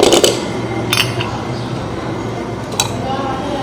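Poppy seeds and grated coconut are crushed in a kitchen vessel, giving a few sharp clinks and scraping knocks at the start and middle over a constant low background.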